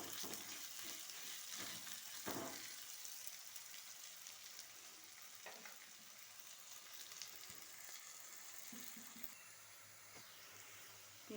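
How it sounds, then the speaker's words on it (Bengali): Chopped onions frying in oil in a pan give a soft, steady sizzle with faint crackles and occasional clinks, fairly quiet and continuous, with no voices. "পেঁয়াজটা একটু লাল লাল করে ভেজে নেব"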